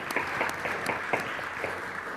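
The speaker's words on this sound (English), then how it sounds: "give them a round of applause, and those online as well." Modest audience applause at a panel discussion, a few distinct claps standing out from a soft, steady patter over about two seconds, fairly subdued.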